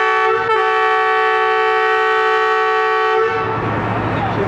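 The Ravi Express at Sheikhupura Junction sounds a loud, sustained horn blast close by for about three seconds, with a brief dip early on, before it fades into rumbling station noise.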